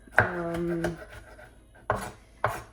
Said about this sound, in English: one scallion, half of a tomato, and we're going to chop it.